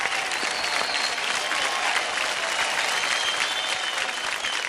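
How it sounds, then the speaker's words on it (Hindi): Loud, dense audience applause for dancer Deepak after a kids' dance competition performance, steady throughout with no speech. "जोरदार तालियां हो जाए दीपक के लिए"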